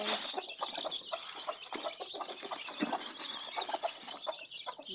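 Chickens cluck and chatter continuously at a moderate distance while chicks are being sorted, with irregular overlapping calls and some scuffling and no speech.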